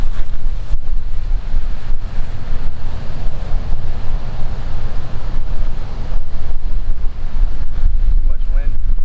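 Heavy wind buffeting a microphone out on a disc golf course, a loud, steady low roar with gusty rumble lasting throughout, faint voices barely emerging beneath it.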